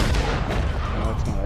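Gunfire in the video game Red Dead Redemption 2 during a shootout, a short burst of loud, dense booming shots close up with no voices.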